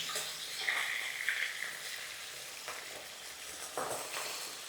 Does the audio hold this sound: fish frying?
yes